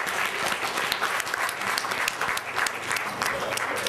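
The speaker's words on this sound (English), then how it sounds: "So can we have a round of applause for this team as well?" Audience clapping for a quiz team at a competition, a brisk, uneven round of applause with individual claps standing out, fairly close and continuous.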